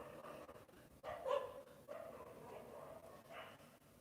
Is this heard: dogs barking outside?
yes